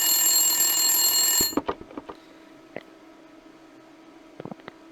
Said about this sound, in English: And the phone was still ringing.